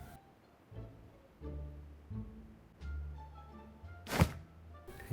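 A single sharp explosion at about four seconds in PUBG on the Metro map stands out over low, droning background tones; no one speaks.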